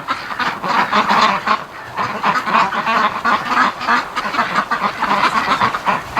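Muscovy ducks from a breeding flock fly home from the mud, giving steady loud calls with hoarse honks and quacks in a dense overlapping stream, near and without pause.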